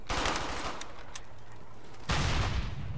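Gunfire from Brothers in Arms: Hell's Highway opens with a burst of close, loud shots, quiet sporadic cracks follow, then a heavy rattling volley erupts near the end.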